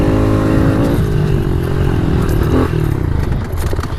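A pitbike engine riding in gear, loud and close, a steady droning buzz with a slight pitch change partway through, no voices over it.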